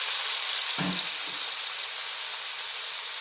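Potatoes fry in rendered pork oil for a pork caldereta, giving a steady, loud, close sizzle from start to finish, with a brief soft thump near the start as they go in.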